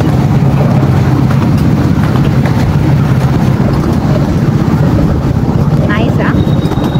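A train running through Cornwall just after leaving a tunnel, heard from inside as a loud, steady rumble and rush that fills the whole clip, with voices faintly beneath it.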